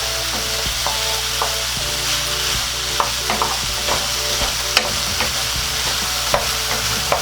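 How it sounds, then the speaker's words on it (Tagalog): Potatoes frying in a pan with a little oil, sizzling steadily and close while a utensil scrapes and taps the pan at irregular moments during stirring. "Hahaluin lang po natin ng hahaluin habang hinihintay po natin na maluto itong ating patatas."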